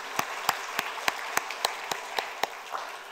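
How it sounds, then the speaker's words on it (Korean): A church congregation claps during a Sunday service, with about ten distinct, evenly spaced claps standing out over a soft, faint background of scattered hands. "수고하는 모든 분들을 위해서 박수로 축복하겠습니다"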